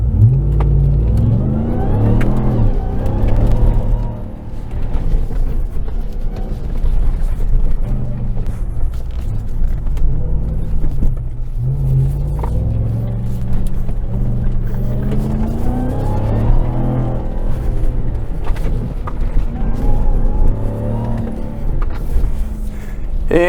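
A RAM TRX pickup truck, set in Baja mode, revs its engine before a rallycross run, the throaty motor rising and falling in repeated surges over a constant low growl, close and loud.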